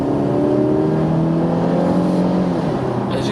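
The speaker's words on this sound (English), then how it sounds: "as you can tell from the sound, it doesn't necessarily sound like a Jeep, it's more like a sports car" A 2012 Range Rover Evoque Coupe accelerates, its engine giving a loud, steady sporty drone with rising pitch, heard alone without talk.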